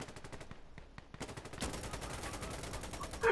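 Video game gunfire rattles off in rapid automatic bursts, first a series of separated shots, then a dense sustained volley that grows louder toward the end.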